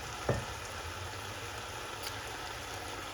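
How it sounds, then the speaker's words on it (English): Mince browns in a pan for a Greek pastitsio, a steady soft sizzle and crackle throughout, with a brief knock or stir near the start and no talk. "brown the mince until it has a slight brown color before adding in the rest of the ingredients"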